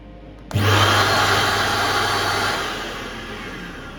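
A vacuum motor in a portable electric carpet cleaning machine switches on abruptly with a loud whine that holds steady, then eases slightly in pitch and level toward the end, with no voices.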